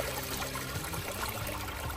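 Steady water flows over a Miller table used to capture gold, giving a continuous rushing, trickling wash at an even level from start to end, with no talk.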